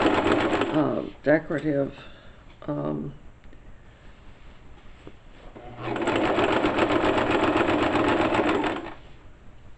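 A sewing machine stitches elastic onto a pair of ladies' panties, running in one steady, close, whirring burst of about three seconds after a woman's short spoken remarks.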